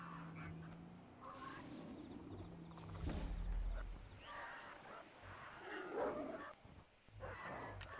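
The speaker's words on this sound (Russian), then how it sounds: "Твою мать, собаки?" Dogs bark in the Far Cry 3 video game, a few sharp barks and growls mixed with other animal calls and game ambience, moderately close.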